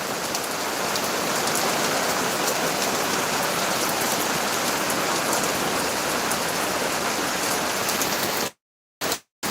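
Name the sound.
rain falling outdoors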